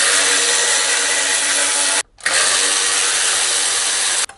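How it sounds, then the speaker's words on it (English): A power tool whirs loudly and steadily while removing the heat shroud bolts on a Yamaha VMAX 1700 motorcycle, running in two long bursts split by a short pause. "I like to take off the heat shroud, 2 bolts."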